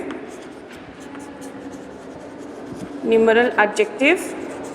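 Marker or chalk scratching across a classroom board in quick strokes, faint scribbling at first, then a few sharper, louder squeaky strokes near the end.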